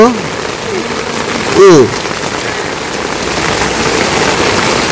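Steady rain hisses over a Bangladeshi village in the rainy season, a dense, even wash of drops that never lets up, with a brief voice breaking through near the start and again partway in.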